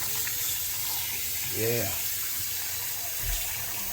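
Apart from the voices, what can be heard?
tap water washing shrimp in sink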